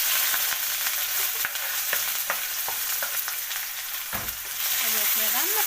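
Onion frying in a pan with cumin seeds and a dried chili, a steady close sizzle with scattered pops and stirring scrapes throughout, briefly dipping before resuming strongly.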